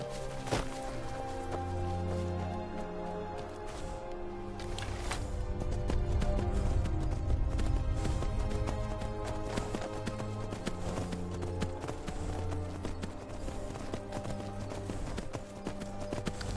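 Horse hooves clip-clop at a steady trot in Skyrim VR on PlayStation VR, the close, regular beats running under continuous game music throughout.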